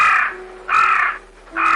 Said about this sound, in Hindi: सिर्फ वही काला कौवा पास की शाखा पर बैठा था